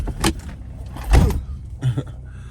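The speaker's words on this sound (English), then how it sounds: "I gotta close this door." A door swinging and bumping shut indoors, with a few close thuds and rattles over roughly two seconds, loudest in the middle impact.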